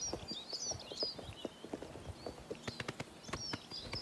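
Horse hooves clip-clop in a steady, quick rhythm while riding in first person in Oblivion Remastered, a video game, with occasional higher chirps over the close, moderately loud hoofbeats.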